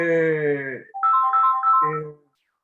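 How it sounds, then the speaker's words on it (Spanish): A loud electronic phone ringtone plays up close as a harmonic melody, a sustained tone followed by a rising run of higher notes, then a final tone before it cuts to silence. "Me empezaron a llamar por teléfono."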